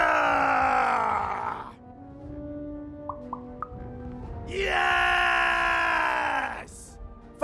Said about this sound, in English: We need to scream so that our enemies know that we're here!